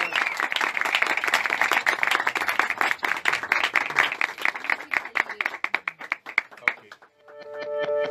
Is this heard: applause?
yes